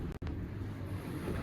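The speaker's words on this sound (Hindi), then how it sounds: "इतनी तेज़ हवा चल रही है" Strong, steady wind roaring and buffeting the microphone, with a brief dropout near the start; no voices.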